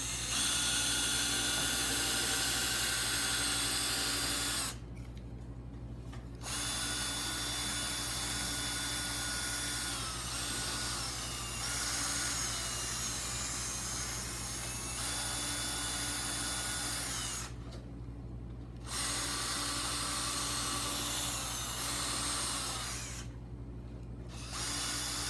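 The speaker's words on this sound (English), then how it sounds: "I take a drill with the drill bit, the smaller one." A power drill with a small bit whirs steadily against a taxidermy face, running in long continuous stretches broken by two or three short pauses, close, fairly quiet and with no voices.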